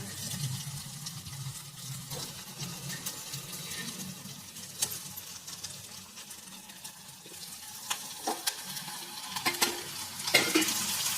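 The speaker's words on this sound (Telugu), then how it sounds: "అన్ని టమాటా పండు వేసేసుకొని కలుపుకొని బాగా వేయించుకోవాలి." Chopped onions and tomatoes frying in a pan while being stirred, a soft continuous sizzle with scattered scraping and clinking of a utensil against the pan, growing busier toward the end.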